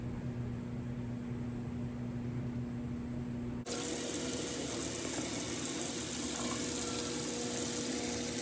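Tap water gushes steadily into a sink while kale is washed, starting abruptly after a few seconds of quiet hum and then running continuously and fairly close.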